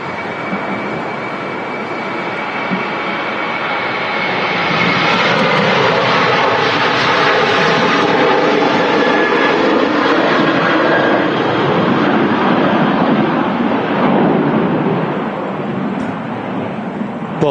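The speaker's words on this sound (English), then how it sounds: "Another Jet2 737 rolling on the runway for now." A Jet2 Boeing 737 rolls along the runway at Manchester Airport in the evening, its loud, steady jet roar swelling and then easing slightly over about seventeen seconds, with no voices.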